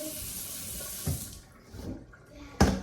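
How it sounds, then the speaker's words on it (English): Excess water drains and drips from food in a home kitchen before seasoning, a close running trickle that fades into sporadic splashes and small knocks, ending with a sharp clatter. "I'll let the excess water drain out in this before I start to season it."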